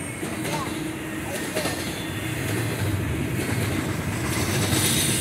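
A long freight train rumbles steadily past at speed at Silver Creek, New York, wheels clattering and rails hissing, loud and continuous for the whole stretch.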